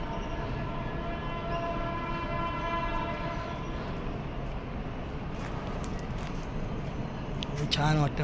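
A train passes close to a small railway station, its horn sounding as a long, steady, loud blast over the rumble of the rails. A brief rattle of the cars follows near the end.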